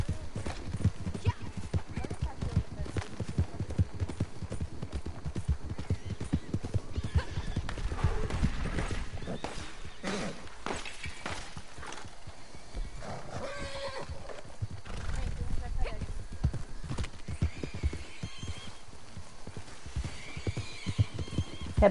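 Horseback riding in the video game Red Dead Redemption: steady, close clip-clop hoofbeats run throughout, joined by a horse's whinny, with faint voices intermittently in the background.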